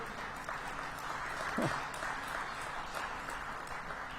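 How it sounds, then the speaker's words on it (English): An audience at a Major League Soccer All-Star Game announcement event gives steady, distant applause that holds evenly throughout. "let's, by the way, have a nice round of applause for Ben Olson, Ryan Nelson, Aleko Eskandaria"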